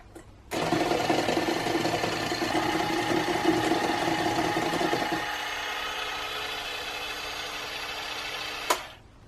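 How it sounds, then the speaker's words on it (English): An electric mixer beats a gluten-free vanilla cookie mixture, switching on abruptly into a loud, steady whirring drone that drops in pitch midway, then cuts off with a clunk near the end. "we are going to mix together until well combined again"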